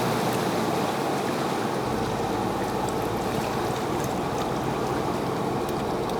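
A Ford Bronco driving off-road through deep water on a tight Texas trail: steady churning, rushing water noise with a low engine rumble underneath, continuous and loud throughout.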